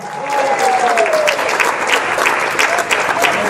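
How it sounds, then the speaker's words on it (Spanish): A church congregation claps steadily and loudly, with a brief gliding tone sounding faintly at the start. "Un aplauso al Rey de Gloria."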